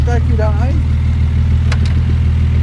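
A 1970 Mercedes 280 SL Pagode in original condition runs at a steady, loud idle close by, its low engine rumble continuous while someone talks over it.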